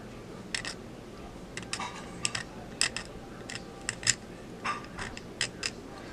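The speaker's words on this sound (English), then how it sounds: "Okay, so like I'm going like this, scraping. And the X-Acto just goes across the chin." An X-Acto knife scrapes across the chin of a Blythe doll during customization, producing a series of quick, faint, dry scratching ticks in irregular short bursts against a quiet background.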